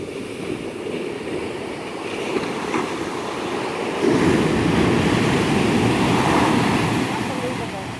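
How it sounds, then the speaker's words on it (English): Ocean surf at a beach at night, with incoming and retreating waves colliding. A continuous loud roar of breaking water builds into a heavier surge about halfway through, with wind noise throughout. "The waves come in while the other ones are going back out, and they hit each other and they make these huge booms."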